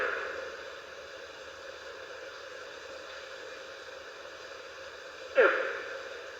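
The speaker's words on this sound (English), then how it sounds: "So piao sounds like this." A recorded putty-nosed monkey pyow alarm call: a single faint, descending call rising briefly out of steady background hiss near the end.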